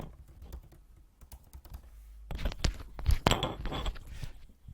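Typing on a computer keyboard, close and fairly soft, with sparse taps at first and then a quicker, busier burst of keystrokes and clacks.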